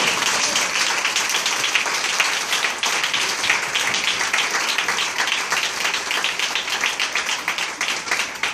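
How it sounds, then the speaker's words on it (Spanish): A church congregation breaks into sustained applause, a dense, even wash of many hands clapping at steady loudness for over eight seconds with little else heard. "denle un aplauso al Rey de Reyes."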